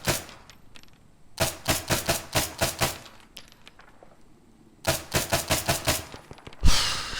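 A suppressed VSS Vintorez rifle fires in ARMA 3 in two rapid bursts of about eight evenly spaced shots each, loud and close, followed by a heavier thud.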